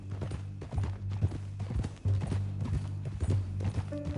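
Horse hooves clip-clop in the video game Red Dead Redemption 2, an uneven walking rhythm of close, distinct thuds over a low steady hum.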